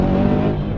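A Subaru STI set up for daily and track driving revs hard for a brief moment, a loud, close engine roar with dense harmonics that holds steady and alone.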